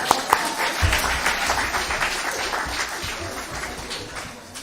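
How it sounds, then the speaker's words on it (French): Applause from a congregation during a sermon, a moderate crowd clapping steadily for several seconds with a few sharper individual claps at the start and a faint murmur of voices beneath. "On peut les applaudir, hein?"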